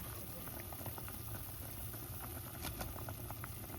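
Chicken soup with carrots simmers in a pot, a steady low bubbling hiss with scattered soft pops, close and quiet, with no one speaking.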